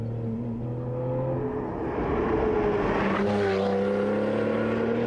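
A Porsche Targa GTS engine and exhaust running through the unthrottled exhaust vent, a loud steady drone that swells as the revs climb partway through and then holds.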